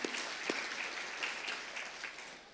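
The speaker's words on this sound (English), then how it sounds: "Big round of applause, guys." Audience applause at a graduation ceremony, a steady wash of clapping from a crowd that carries through and begins to taper toward the end.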